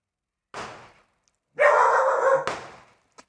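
A frightened pet dog yelping and barking in fear of firecrackers, heard in two close bursts, the second loud and sustained, with no talking.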